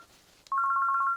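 A telephone rings in a Hindi film scene, with a short electronic ringtone of rapid, warbling pulses sounding clearly and close after a brief quiet moment.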